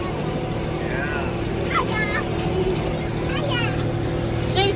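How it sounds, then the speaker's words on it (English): A large Versatile tractor disking ground, a steady loud engine drone running throughout, with people talking over it. "driving a big tractor, the big versatile"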